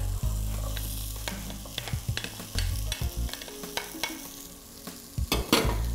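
Tomatoes and onion tipped into a hot pan of frying vegetables, a strong, close sizzle with repeated stirring scrapes and clicks of a utensil against the pan, with a brief louder burst near the end.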